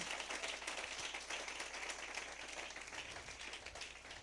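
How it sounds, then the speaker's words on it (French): Steady applause from a church congregation, a dense wash of clapping that holds evenly throughout without any voices standing out. "Donnez une main d'acclamation au Seigneur"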